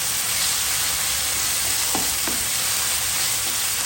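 Cardamom, cinnamon and bay leaf frying in hot oil: a dense, steady close sizzle throughout, with two brief scraping stirs near the middle.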